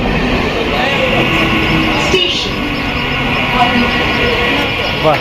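A passenger train enters a station platform, its low rumble and rolling wheel noise loud and close, with a sharp screech and clatter partway through. Voices are heard over it.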